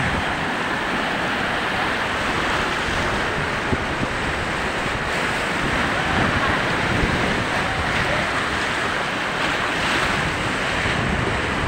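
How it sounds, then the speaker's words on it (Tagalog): Loud, constant roar of large monsoon sea waves crashing at high tide in Bulan, Sorsogon, Philippines, with strong wind buffeting the microphone, dense and unbroken throughout. "malalaki ang alon"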